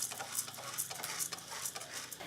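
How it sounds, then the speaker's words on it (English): Coffee beans being stirred in a pan while roasting over fire in the Central Highlands of Vietnam, a steady close rustling and scraping of beans with soft rhythmic clicks, alone without voices. "you got to stir in a certain way to make sure that each bean will be perfectly roasted and burnt"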